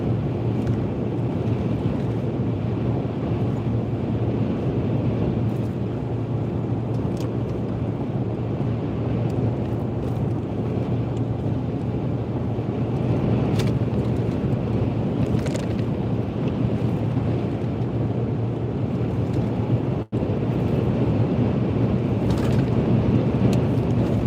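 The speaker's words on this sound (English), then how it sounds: "Really windy." Steady roar of strong wind buffeting the microphone while driving through snowy mountains, a dense low rumble that stays constant throughout with no voices.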